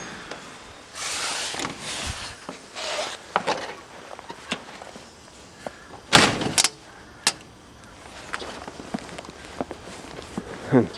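Footsteps cross the inside of a house and a front door opens with latch clicks and a rattle, followed by a few sharp knocks and more steps outside, close and fairly loud with no talking.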